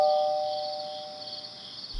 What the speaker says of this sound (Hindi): डोरबेल प्रेस करता है